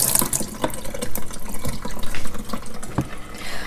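Aquarium water pours from a container into a hang-on-back filter, splashing and gurgling in uneven bursts, close and fairly loud, with a running, tap-like trickle throughout.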